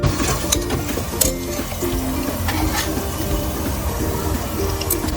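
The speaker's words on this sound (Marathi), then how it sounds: "हा जो कांदा आहे ना तो गोल्डन ब्राऊन होईपर्यंत परतून घ्यायचा आणि असा मऊ होतो नंतर" Onions and bay leaf sauté in oil for a village-style mutton curry, a dense steady sizzle with rhythmic scraping and clatter of a spatula against the pan, no voices.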